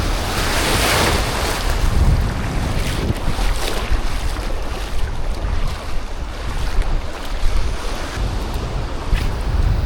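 Sea waves wash steadily around a small sandbar at high tide, a continuous loud roar of surf with wind buffeting the microphone and no voices.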